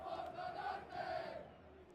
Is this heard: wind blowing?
no